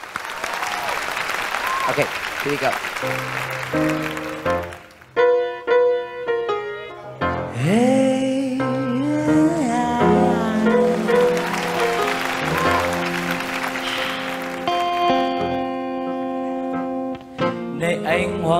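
An audience at a live Vietnamese comedy and music show bursts into loud applause and cheering while a band plays and a host speaks over the crowd.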